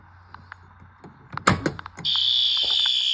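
System Sensor P2R fire alarm horn: after some knocks and clatter, a loud steady electronic horn tone starts and holds to the end.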